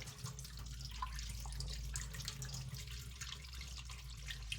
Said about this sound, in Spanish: con abundante agua nos sacamos todo el jabón